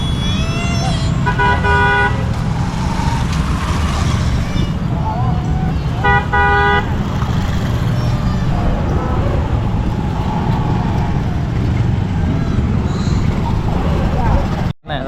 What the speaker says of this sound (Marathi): बोट आले तिथं सगळ्या गाड्या येतील आता